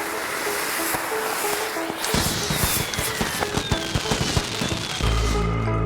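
Fireworks set off a few days before New Year burst in a quick, crackling volley of sharp pops and bangs over a steady background hiss, fairly near and loud, ending in a lower rumble.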